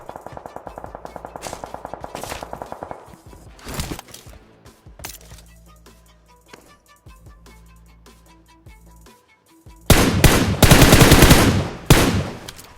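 Automatic gunfire in PUBG, coming from below the player: a rapid machine-gun burst opens the clip, scattered shots follow, then a loud, dense volley near the end.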